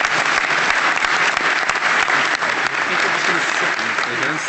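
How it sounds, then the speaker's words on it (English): Steady applause from a large crowd, dense and continuous clapping throughout with no pauses, fairly loud and close. "A round of applause."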